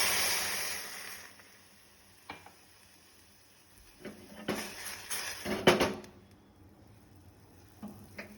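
Pumpkin soup being stirred in a pot, with scattered scrapes and clinks of a utensil against the pot, sparse and fairly quiet, a few sharper knocks near the end.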